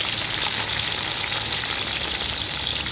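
Two medium chopped onions fry in about a cup of oil for mutton karahi, giving a steady, close, even sizzle throughout with no talking.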